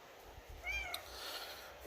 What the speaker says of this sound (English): Oh, there's my daughter's cat.